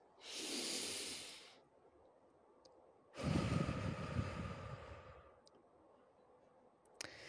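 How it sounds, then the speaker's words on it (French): Two slow, deep breaths drawn and released, each a soft airy rush lasting a second or two, close and quiet with silence between. "on prend une grande inspiration"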